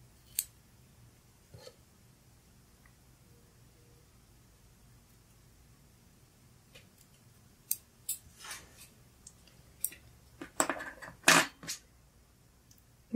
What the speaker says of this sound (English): And then I'll cut off the excess down the middle.